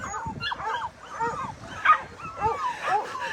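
Several puppies up for adoption whimper and yip in a rapid overlapping chorus, high-pitched whines rising and falling close by, with short sharp yelps mixed in.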